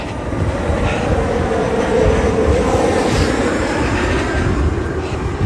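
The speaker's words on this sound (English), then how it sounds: "Let's see if we can get lucky and have the metro go right overhead." A Washington, DC metro train rumbles past directly overhead on an elevated track, a loud, dense, sustained roar with a heavy low-end rush that holds steady from start to finish, heard close up from below.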